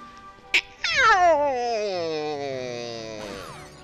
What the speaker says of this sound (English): the sound the pole stars make actually sounds a bit like one of the cats I live with when she's growling